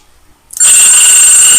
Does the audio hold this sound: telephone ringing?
yes